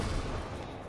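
A Kornet launcher fires in the Battlefield 3 game, a dense, booming low blast that fills the brief moment with rumbling roar.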